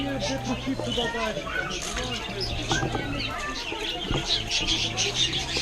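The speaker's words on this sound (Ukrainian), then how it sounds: "Які голуби, вони кучеряві." Curly-feathered pigeons at a zoo coo softly in low, repeated calls amid other faint bird chirps and background visitor chatter, with people talking nearby.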